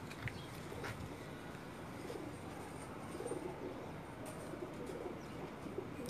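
Rampuri pigeons, an Indian breed, cooing on a rooftop loft: a soft, continuous low murmuring coo from several birds with faint chirps, steady and moderately close.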